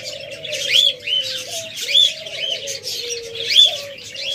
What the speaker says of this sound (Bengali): তাও আবার হাই মিউটেশনের লাভবার্ড।